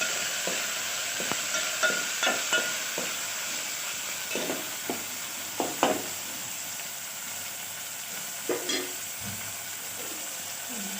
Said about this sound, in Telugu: నెక్స్ట్ టమాటాలు వేసుకుందాం. ఒకసారి మిక్స్ చేయండి.